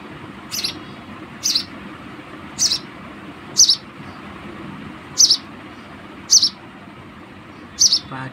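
Sparrows inside a house, sharp short chirps repeated at roughly one-second intervals, seven clear calls over a quiet background hum.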